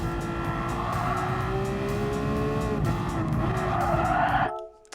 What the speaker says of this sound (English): I did not need to brake that hard.